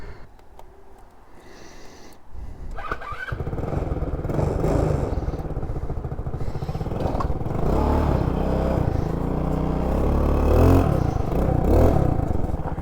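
A Motobravo Roma 150cc scooter is ridden, its engine droning steadily and building slightly louder, with wind rush and rattling over the motor and no talk.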